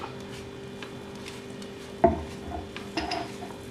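Ground batter mixed by hand in a plate for a North Karnataka style recipe, with soft stirring scrapes and a few sharp clinks of metal against the plate, close and with no talk.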